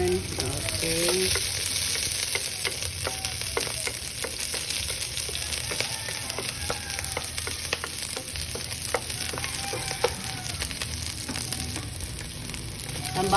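Onions and spring onions frying in a pan give off a steady close sizzle with crackles, and a utensil stirs and scrapes through it now and then.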